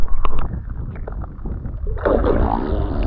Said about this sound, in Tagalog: kung gaano kalakas yung motor.